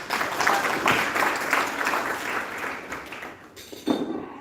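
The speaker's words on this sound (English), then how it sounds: "Round of applause for Joy Wilkins." Audience applause at a benefit dinner, a dense, steady wash of many hands clapping at moderate distance for about three and a half seconds before thinning out, followed by a brief final burst.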